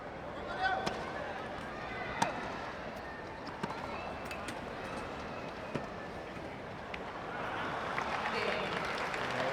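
Crowd at a Rio 2016 Paralympic wheelchair tennis match applauding in a sustained, fairly faint wash with scattered sharp claps, while a commentator talks over it.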